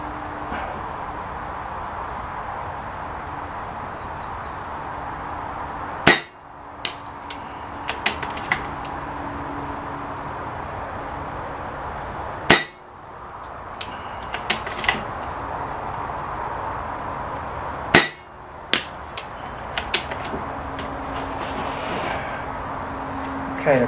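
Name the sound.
rifle shots at targets at 92 yards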